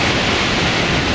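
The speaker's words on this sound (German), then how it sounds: "Hier vom Lena Wasserfall" Lehner waterfall near Lengenfeld in the Ötztal, Tyrol, roaring as a loud, dense, unbroken rush of falling water that fills the whole short stretch with no voices.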